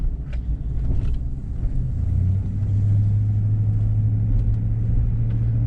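Car driving on a road, a loud steady low rumble of engine and tyres that deepens into a sustained drone, close and continuous with no talk.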